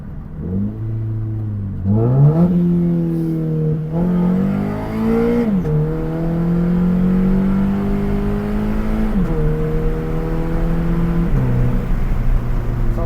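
A Scion FR-S sports car engine in sport mode revs up and holds high, rising and dipping in pitch over several gear changes, loud and close with no talking.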